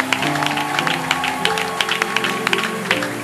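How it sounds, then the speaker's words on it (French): A French-speaking church congregation acclaims Jesus Christ with applause and cheering, a dense crowd roar with scattered claps and sustained voices, loud and continuous throughout. "Est-ce que tu peux acclamer Jésus-Christ de Nazareth?"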